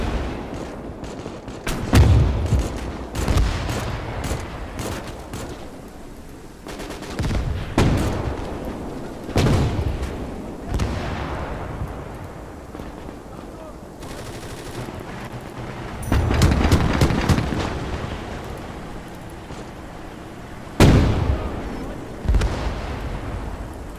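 Mortar fire and shells landing in the Gates of Hell war game, repeated heavy booms and distant blasts every few seconds, some with rattling crackle, over a constant battlefield rumble.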